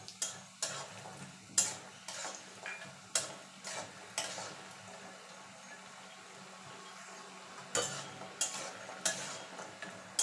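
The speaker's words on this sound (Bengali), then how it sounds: "প্রথমে বড়িগুলোকে ভেজে নেব" Lentil dumplings (bori) fry in hot oil, a steady low sizzle broken by repeated scraping stirs of a spatula in the pan, with no talking.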